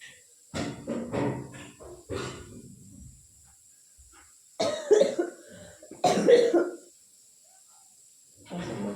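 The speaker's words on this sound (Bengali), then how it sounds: "কাশি হয়েছে," A woman at home with a cold coughs several times in separate bursts, close and fairly loud, with quiet gaps between them.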